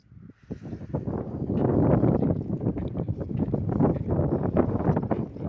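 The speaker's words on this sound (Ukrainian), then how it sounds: "Вибачайте, ну вітер сильний." Strong wind buffets the microphone outdoors in a garden with loud, gusty rumbling and flapping that swells and fades throughout.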